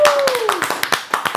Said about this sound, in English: You can clap it up.